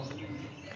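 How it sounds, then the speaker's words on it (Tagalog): Birds at the Malagos bird feeding dome, an enclosed aviary, call and coo close by in a brief burst over a steady background hum, with a couple of brighter chirps near the end. "Ito ang bird feeding dome nila."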